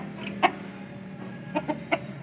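A rooster clucks in four short, sharp bursts spaced irregularly, close by, over a steady low background hum.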